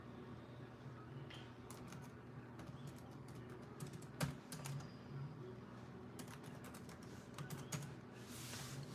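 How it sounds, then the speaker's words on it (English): A reply to a comment is typed on a keyboard: soft, irregular bursts of key clicks over a faint room hum, with a few sharper taps and no talking. "I just typed a reply to you."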